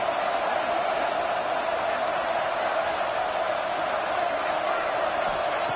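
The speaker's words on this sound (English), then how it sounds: "this crowd is fired up. Listen to this noise here." A football stadium crowd at an NCAA playoff game roars steadily, a dense, continuous wall of cheering and noise that stays loud and unbroken throughout, with no distinct voices standing out.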